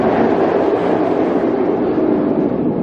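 Bizarro roller coaster at Six Flags Great Adventure running an empty train, a steady, loud, continuous rumbling roar heard from off the ride, with no voices.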